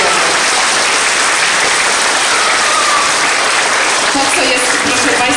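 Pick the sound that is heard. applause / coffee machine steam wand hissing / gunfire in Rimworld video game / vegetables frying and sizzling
applause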